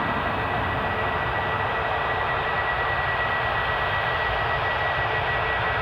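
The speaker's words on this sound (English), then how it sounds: "Not that A320s really make an awful lot of racket." Steady, continuous roar of Airbus A320 jet engines at Newcastle International Airport, a broad rumbling hiss that holds at an even level without breaks.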